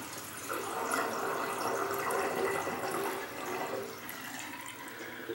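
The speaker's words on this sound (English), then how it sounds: "if your sink drain and your water goes down that quick, you know you don't have a sink clog" Water rushing steadily down an unclogged household sink drain, a continuous close gurgling flow that eases slightly toward the end, with no one talking.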